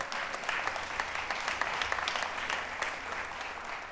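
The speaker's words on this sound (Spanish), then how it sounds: "un aplauso a los que sirven en la iglesia" A church congregation claps in appreciation of those who serve, a brisk, dense round of applause with audible individual claps, steady throughout.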